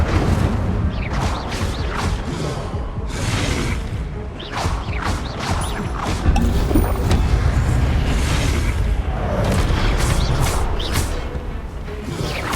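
Spell-casting in the video game Hogwarts Legacy, including the Incendio fire spell, as a dense run of whooshes, crashes and booming impacts over a constant game soundtrack.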